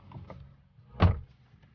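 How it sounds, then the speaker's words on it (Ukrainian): One dull, solid thud of an Opel Vectra C car door shutting, brief and muffled, with a little quiet rustling before it. "Двері так глухо закриваються, справді, як в люксовому якомусь седані."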